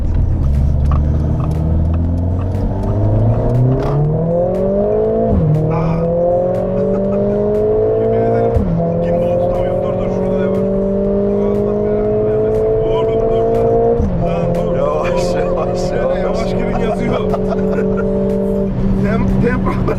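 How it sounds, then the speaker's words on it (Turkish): Steady engine drone inside a moving Mercedes CLA45 S, rising in pitch through several gear shifts, with a low exhaust rumble and occasional talking over it. "Egzoz sesi zaten hafiften herhalde içeri geliyordur."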